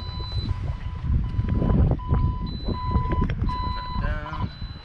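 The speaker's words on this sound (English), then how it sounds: "So now you hear the beeping, and that's to alert you that there's no tags connected" Steady electronic beeping from an OLAS Guardian wireless kill switch alarm, warning that no tags are connected, repeats at regular intervals over engine rumble and background noise.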